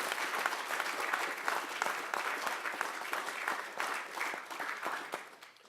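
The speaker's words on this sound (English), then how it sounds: "I think we should give the principal another round of applause" A meeting audience gives the principal a round of applause, dense steady clapping from many hands filling the room for several seconds before tapering off at the end, fairly close and unaccompanied by speech.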